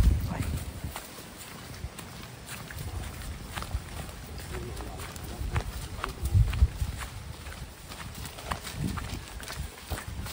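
Carabao (water buffalo) hooves clopping in a loose, uneven walking rhythm along a river path, fairly close, with a low steady background rumble and some talk underneath.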